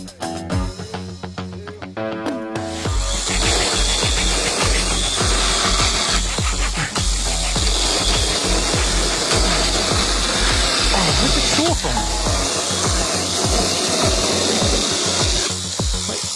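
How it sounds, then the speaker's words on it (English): A GreenWorks G24MCS10 24-volt battery mini pruning chainsaw starts up after a brief clatter, then buzzes loudly and continuously as it bites through logs, pitch dipping under load. "24-volt mini chainsaw."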